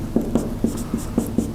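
Chalk or marker strokes on a board during a university lecture, a steady series of short taps and scrapes about every quarter second, fairly close and alone without talk.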